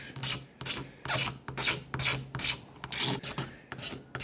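Rhythmic raspy scraping strokes removing layer lines from a PLA 3D print, about eight passes in a steady back-and-forth rhythm, close and alone.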